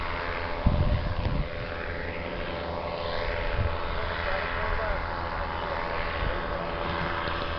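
A steady aircraft engine drone hums in the background, with a couple of brief thumps near the start and faint voices.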